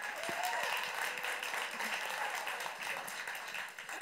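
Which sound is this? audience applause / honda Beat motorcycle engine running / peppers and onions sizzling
audience applause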